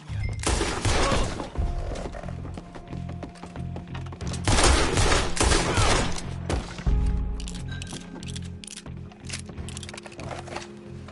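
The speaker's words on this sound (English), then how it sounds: "Oh, that'll be the pistol." Bursts of pistol fire and thumping action noise from the Cowbois western game come in a few loud clusters over a steady low game-music bed.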